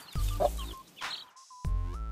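Chicken clucking sound effect: two close, loud bursts of hen clucks with a thin sustained tone between them, no talking.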